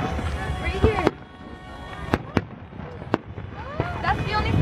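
A fireworks display explodes in loud, sharp bangs, several separate cracks spaced a second or so apart, with whistling and crackling in between over outdoor crowd noise and nearby people talking.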